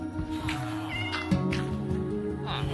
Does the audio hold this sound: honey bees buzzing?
no